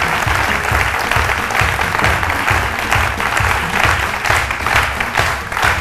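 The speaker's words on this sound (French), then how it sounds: "Nous accueillons tout de suite Abbé Raoul, que je vous demande d'applaudir très fort." A studio audience on a midday Ivorian TV talk show applauds loudly and steadily, a dense wash of clapping with no talk over it.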